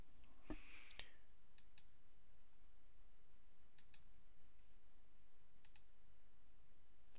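A computer mouse gives a few sparse, faint clicks, a quick pair early on and then single taps spaced seconds apart, against a steady quiet background hiss with no talking.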